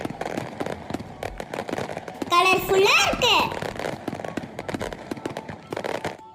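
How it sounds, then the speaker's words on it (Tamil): Firecrackers go off nearby in a string of crackling pops, with a louder whistling, sparkling burst in the middle, while someone talks over them. "இங்க எவ்வளவு பட்டாசு வெடிச்சிட்டு இருக்காங்க"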